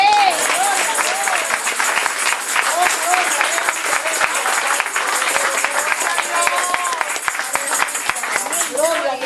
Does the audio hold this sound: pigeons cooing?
no